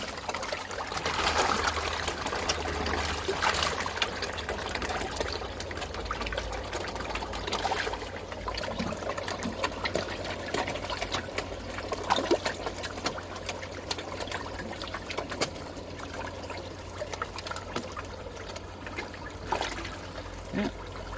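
Water trickles and splashes continuously as a garden koi pond refills after a big water change, a steady close babble of flowing water, and a person speaks briefly over it.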